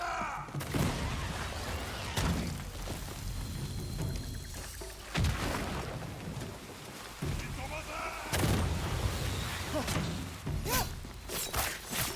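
Rocket launcher fire in the video game Ghost of Yotei booms as several heavy, sharp blasts spaced a few seconds apart, each trailing into rumbling debris, with quieter talk in between.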